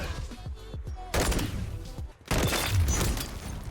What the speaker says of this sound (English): You actually hear the radiation sound as well when they die.